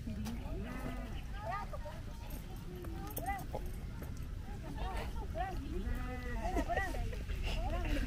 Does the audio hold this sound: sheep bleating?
yes